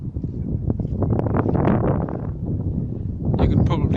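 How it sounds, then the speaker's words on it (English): Strong wind buffets the microphone on the Little Sands shoreline at South Shields, a steady rough roar with gusts building toward the end, and someone talks over it. "You can probably hear a lot of wind."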